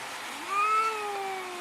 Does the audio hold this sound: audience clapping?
no